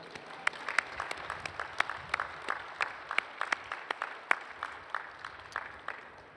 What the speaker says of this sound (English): Please give them all a big round of applause.